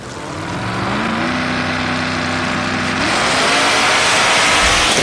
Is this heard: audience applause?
no